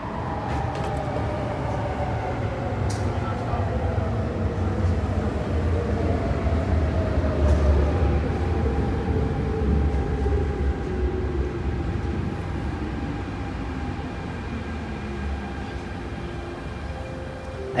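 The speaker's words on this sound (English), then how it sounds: "The train to Hong Kong is arriving." A metro train for Hong Kong rolls into an Olympic Station platform, a steady loud rumble of wheels on rails with long gliding tonal whines that slowly descend as it brakes, continuous throughout with no talking.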